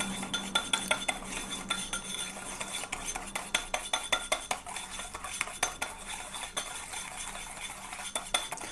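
A whisk beats a thick hair-care paste against the sides of a bowl in a quick, steady rhythm of close, clinking scrapes that runs throughout.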